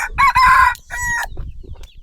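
A rooster crows loudly and close by in two bursts, a long strained call followed by a shorter one, then fades into quiet background noise.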